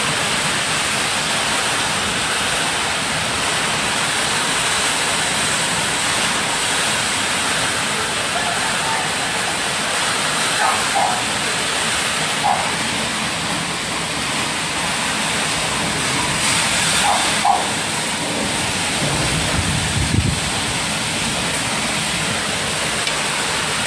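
Strong wind from Typhoon Quinta roars steadily with heavy rain in Batangas, Philippines, October 2020, a dense continuous wash of noise with occasional faint knocks and gusts.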